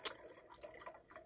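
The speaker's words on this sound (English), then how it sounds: "pouring in our potassium hydroxide into this addition funnel here." Potassium hydroxide solution pours into a laboratory addition funnel, a quiet stream of light splashes and drips with a sharp clink at the start.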